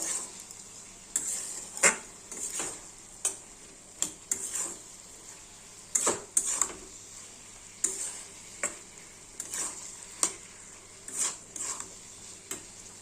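A spatula scrapes and stirs turmeric, salt and cumin powder in a pan, with sharp clicks and scrapes every second or so over a faint steady sizzle.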